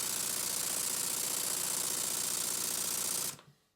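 A Stuart 7A model steam engine runs with a fast, even mechanical beat, loud and close, then cuts off abruptly near the end.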